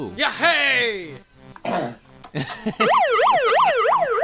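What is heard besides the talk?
siren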